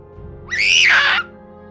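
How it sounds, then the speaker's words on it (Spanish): A man lets out one loud, rising scream of terror as a horror story effect, lasting about a second and standing alone against near silence. "Grité completamente aterrorizado."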